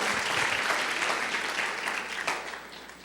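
A church congregation claps together, a dense burst of applause that is strongest at the start and slowly thins and fades over a few seconds.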